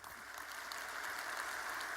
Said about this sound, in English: And that applause is directed at you